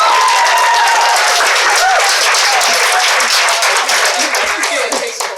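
Dense, loud applause and clapping from a youth poetry slam audience, sustained for several seconds and tapering slightly at the end, with faint voices mixed in.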